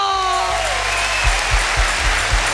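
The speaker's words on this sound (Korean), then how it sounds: "박수로 Un aplauso 하나님께 para Jesús." A church congregation at a revival service in Saltillo, Mexico bursts into applause, loud and dense, with a few heavy rhythmic thumps, after a short fading held tone.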